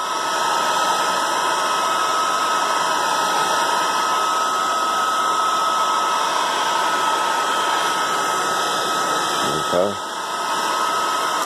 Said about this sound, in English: we have a heat gun here, and we're supposed to quickly heat up the edges of this guy